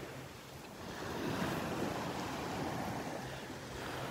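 Calm Gulf of Mexico surf at Delnor-Wiggins beach in North Naples, a soft, continuous wash of small waves with a gentle swell in the middle, light breeze noise and no talking.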